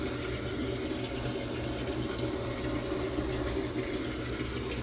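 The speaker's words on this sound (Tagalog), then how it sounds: "Hindi natin makita yung tubig na, pero naririnig natin na naglalagay ng tubig na mainit" A steady, muffled rush of hot water pouring into a washing machine drum, constant and continuous with a low hum beneath it.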